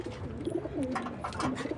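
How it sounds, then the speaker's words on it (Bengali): Pet pigeons kept for homing races coo softly at close range, with a few overlapping low throaty calls and no voices. "এই যে কবুতরগুলো আছে আলহামদুলিল্লাহ"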